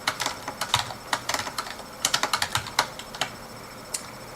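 Someone typing a Linux command on a computer keyboard: rapid, close clicky keystrokes in uneven bursts with short pauses, ending in a single isolated tap, with no voices.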